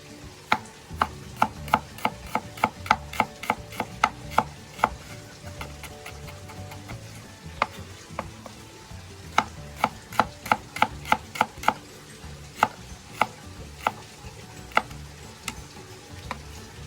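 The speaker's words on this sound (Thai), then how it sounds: "ก็จะมี หอมนะผม เดี๋ยวเราจะมาซอยแล้วเอาไปทอดครับ" A knife slices shallots on a cutting board, crisp quick taps in fast bursts with brief pauses between runs, close and fairly quiet against a low background hum, with no one speaking.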